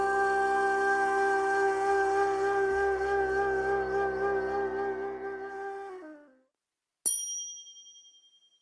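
A ney, the Turkish reed wind instrument, holds a long breathy wavering tone that fades out, followed after a brief silence by a single bright ringing ding.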